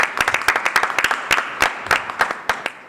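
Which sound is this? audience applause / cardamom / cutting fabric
audience applause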